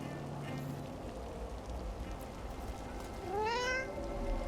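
Cat meowing in the Dragon Age: The Veilguard video game, a single rising meow near the end over a faint steady rain-like game ambience.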